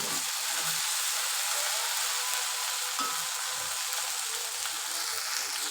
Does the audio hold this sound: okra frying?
yes